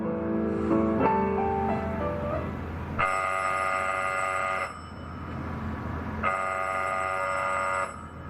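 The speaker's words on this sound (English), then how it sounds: "the ringing of that phone bell means mystery, adventure." An old-fashioned telephone bell rings in two long bursts with a short pause between, loud and close over faint background tones, opening a live radio theater show at a park bandshell.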